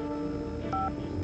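Telephone keypad dialing tones sound as a few short, clear electronic beeps in quick succession, with a quiet background hum beneath them.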